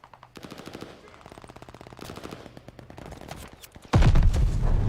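Rapid automatic bursts from an Owen Gun in the shooter game Call of Duty: Vanguard, close and loud with a fast regular rattle, then a heavier burst of louder gunfire and explosions at the end.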